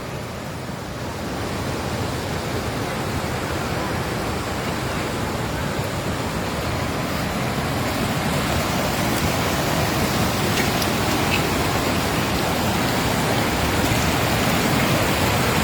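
Water rushing down a road during a landslide in Munnar, a dense, loud, continuous roar that holds steady and builds slightly, with no talk over it.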